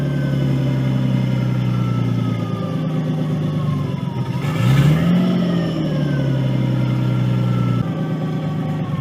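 A Nissan 240SX S13 with a swapped RB20DET engine running steadily, a loud close engine drone with a brief rise and fall in revs midway, no talking.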